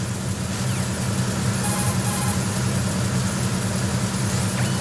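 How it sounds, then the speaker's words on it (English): A tanker's engine room in Metal Gear Solid 2 gives off a steady, loud, low mechanical rumble and hum that drones on without a break and with no talk over it. "The engine noise is pretty loud, but that means the enemy's hearing will be hampered too."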